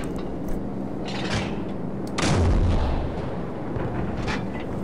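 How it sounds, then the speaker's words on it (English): A heavy explosion in Call of Duty 4: Modern Warfare erupts midway as a loud, deep boom with a rumbling tail, set among quieter scattered gunfire-like cracks and battlefield noise. "Just one more random explosion."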